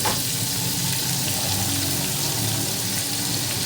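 Finely chopped onion fries in butter for butter chicken, giving a loud, continuous crackling sizzle that stays even from start to finish.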